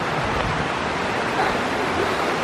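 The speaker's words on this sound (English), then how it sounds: "There's where the waterfall starts." A triple waterfall rushes in a steady broadband roar, loud and continuous with no breaks, the hiss of falling water filling the whole stretch.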